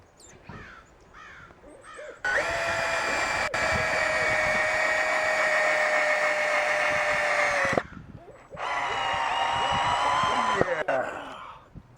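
A power drill drives a long screw through a portable carport frame into an anchor, with two loud whining bursts of several seconds each, separated by a short pause. Faint talk is heard around them.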